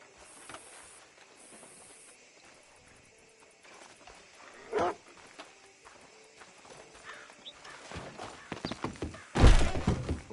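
Horse hooves clopping in scattered bursts with a sharp neigh-like cry near the end, over a low ambient background in Red Dead Redemption.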